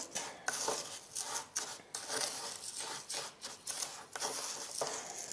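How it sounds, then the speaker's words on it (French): Homemade chocolate bath salt is stirred in a bowl: soft, close gritty scraping and rustling of salt crystals, in short uneven strokes, with no voice. "Je vais bien mélanger."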